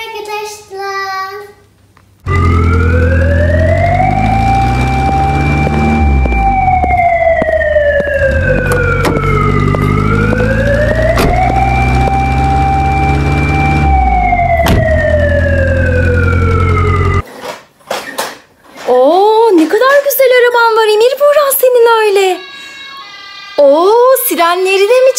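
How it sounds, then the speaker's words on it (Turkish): A toy emergency vehicle's electronic siren wails loudly in rising and falling sweeps for about fifteen seconds, then stops. Brief bursts of chirpy toy sound effects follow. "Sirenleri de mi çalıyor yoksa?"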